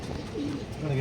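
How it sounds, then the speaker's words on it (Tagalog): Racing pigeon cooing at a club training release in Gumaca, Quezon, a short soft low coo near the end, heard over background chatter and outdoor noise. "Ito na ibon mo, Banong."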